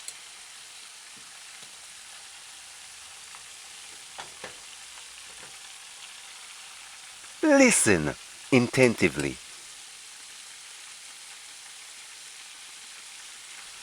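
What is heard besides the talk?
chicken frying in oil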